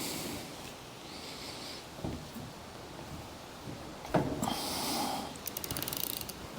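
A ratchet wrench loosens the front sprocket bolts on a mid-drive ebike drivetrain, with faint mechanical fumbling giving way to a quick run of sharp, close pawl clicks near the end.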